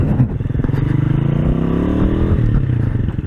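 Kuba Çita 180 R Gold motorcycle ridden off-road over bumpy ground, its engine a steady close rumble with rattling, clattering body noise and scraping as it bounces along.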